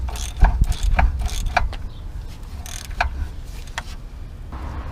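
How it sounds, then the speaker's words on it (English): A ratchet with a 7/8 socket loosens a tie rod nut on a BMW E90 330xi, giving repeated close, loud clicking bursts with short pauses between strokes, no talking. "That is a 7/8, guys, socket. So get that and loosen it."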